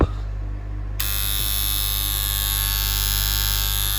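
A pond air pump drones steadily up close, a constant electric buzz with a low hum, and a brighter whine joins after the first second.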